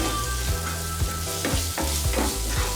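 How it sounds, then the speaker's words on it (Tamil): Onion and tomato masala with chilli powder, turmeric and salt frying in a pan, a steady close sizzle broken by regular scraping stirs about every half second. "வெங்காயமும் தக்காளியும் ஒரு 5லேருந்து 7 நிமிஷத்துக்கு வதங்கணும்"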